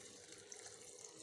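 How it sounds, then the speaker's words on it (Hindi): A glass of water pours into a grinder jar for falsa juice, a steady close splashing rush that continues throughout. "1 गिलास पानी डालते हैं"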